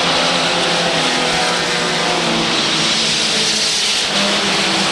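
Mini stock race cars roar together around the Waterford Speedbowl oval, a loud, dense, unbroken wash of engine noise from a field of cars running in close traffic.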